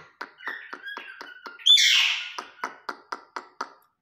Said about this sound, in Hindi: और देखो हमारा कॉकटेल बेचारा बोल रहा है